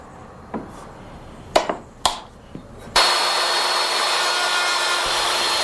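A hand router cuts a tenon in wood: a few sharp wooden knocks and clatters, then the router switches on and runs as a loud, steady, close whine to the end.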